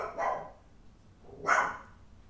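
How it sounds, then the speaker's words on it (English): A dog barks twice indoors, about a second apart, moderately loud against a quiet background with no one talking. "Sorry for the barking."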